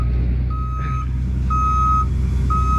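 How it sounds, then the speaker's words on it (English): A backing truck's reversing alarm sounds three evenly spaced, loud, steady beeps over a continuous low engine rumble on a rural road work site. "Oh, geez, we got another one backing up."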